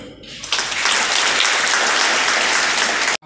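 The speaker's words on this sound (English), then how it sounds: "a big round of applause" Audience applause at an Easter cantata musical drama in a church hall, a dense steady round of clapping that swells in after a brief pause, stays loud and even for about three seconds, then cuts off abruptly.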